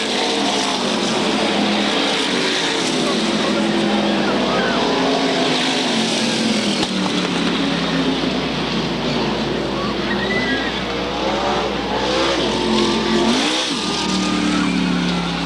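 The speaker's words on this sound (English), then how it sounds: "The field working the way out of turn number 4 for the final time as Todd Ceravolo picks up the win" SK Modified race cars roar out of turn four at Waterford Speedbowl during a 1994 SK Modified 100, a loud continuous engine howl with shifting pitch and a race announcer talking over it throughout.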